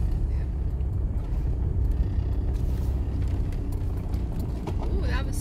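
A 4x4 rumbles along a sandy overland trail in Europe, the engine and road noise a steady close drone throughout, with people talking inside the cabin over it.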